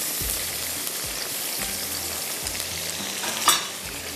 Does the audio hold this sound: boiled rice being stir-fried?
yes